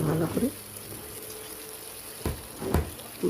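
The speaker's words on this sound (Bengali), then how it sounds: "ভালো করে আলুটা ভেজে নেব বন্ধুরা" Potatoes fry in a pan with onion, ginger paste and green chilli, giving a low, steady sizzle broken by a few short clatters of stirring near the end.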